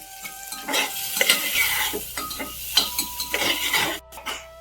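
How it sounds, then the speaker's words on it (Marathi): Onion frying with salt in a pan, crackling and sizzling close up while a utensil stirs and scrapes in quick irregular strokes, with no talking. "तर आता चांगलं भाजून घ्यायचं कांद्याला."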